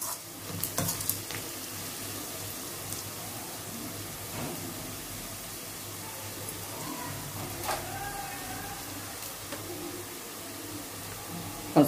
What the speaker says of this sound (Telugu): ఉల్లిపాయలు వేగినాయండి ఇవి